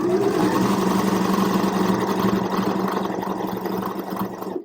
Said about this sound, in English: you see how the sewing machine naturally wants to sew straight?